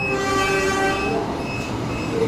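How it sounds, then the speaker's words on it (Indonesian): An extra passenger train on the Lempuyangan–Pasar Senen service passes Klender station with a steady, loud rolling rumble, sounding its horn in sustained tones early and again briefly later. "Oh, itu baru kereta tambahan Lempuyangan Pasar Senen."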